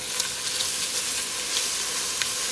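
Potato soup ingredients cook in a pot with jarred minced garlic, producing a close, steady sizzle with faint hissing bursts and small pops.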